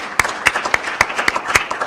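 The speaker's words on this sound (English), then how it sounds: "we'll give her a round of applause" Steady, evenly spaced hand claps ring out at an annual meeting, about four sharp claps a second, moderately loud and fairly close, with no talking over them.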